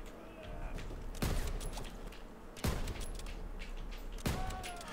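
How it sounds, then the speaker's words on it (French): Gunfire from an allied soldier in the World War II shooter Call of Duty WWII, with three sharp, loud shots spaced roughly a second and a half apart over steady battlefield ambience. "Il tire sur personne ou quoi?"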